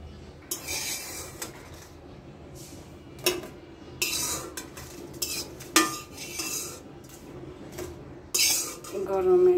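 Potatoes being mashed for Bengali aloo bhorta, with a utensil clinking and scraping against a metal pot or plate in irregular bursts, close up and fairly loud, the sharp clatters separated by quieter stirring.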